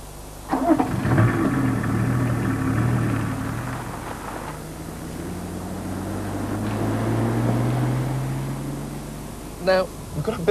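A BMW 2.5-litre six-cylinder diesel idles smoothly, holding a low, even hum with gentle swells in level, close by and fairly quiet.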